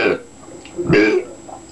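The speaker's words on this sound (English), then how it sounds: "That wasn't in one burp though." A short, loud, gurgling burp comes from a person in a burping contest, preceded by a brief throaty sound, close to the microphone.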